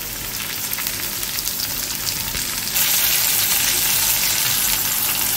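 Chicken dropped into a pan of browned onions for chicken karahi, a loud close sizzle that jumps sharply in intensity partway through and then holds as a steady hiss, with no voices.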